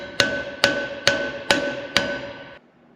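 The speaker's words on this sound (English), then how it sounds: "Gonna need a bigger hammer." A hammer strikes a trailer pin five times in a steady rhythm, each blow a sharp metallic clang with a short ringing tail, loud and close, then silence.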